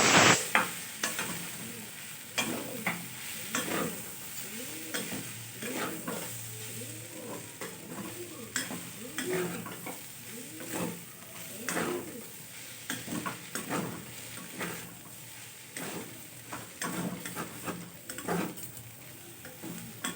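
Masala pasta stirred in a pan with a spatula, steady rhythmic scraping and soft sizzling throughout, close and moderately quiet, no talking.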